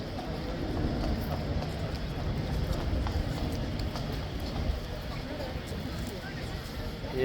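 Horse hooves clip-clop at a steady walking rhythm on a hard surface, fairly close, with people talking in the background.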